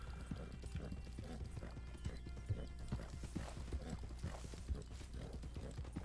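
Hooves of a Turkoman horse in the Red Dead Online video game clip-clop in a steady, continuous riding rhythm, close and moderately loud, with a brief whinny among the strides.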